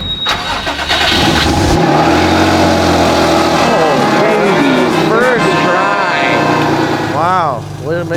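A car that had run out of gas cranks, fires up and revs, the engine loud and close with rising and falling revs, while voices talk over it.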